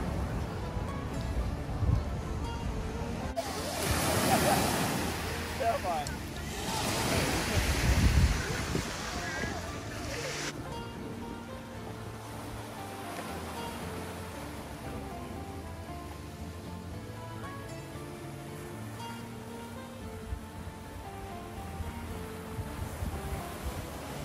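Ocean surf rolls onto the beach at Monterosso al Mare, a steady wash of waves with wind buffeting the microphone, louder surges early on and then a softer continuous roar.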